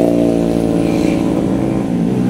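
Motorcycle with a loud modified exhaust, heard near a rubbish dump, giving a steady, strong harmonic engine drone that holds throughout without any talk.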